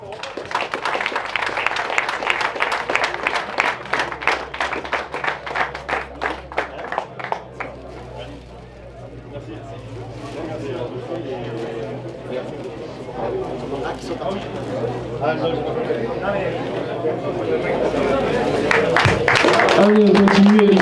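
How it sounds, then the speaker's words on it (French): An audience at the prize-giving ceremony of a classic car rally, the Legend Boucle Cévenole, applauds a crew for several seconds, then a voice talks over a quieter murmuring crowd. "on peut l'applaudir aussi."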